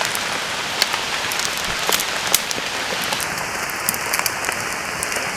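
Heavy pouring rain drums steadily on surfaces outdoors while a shelter and fire are built, a dense even hiss with scattered louder drops and no talk.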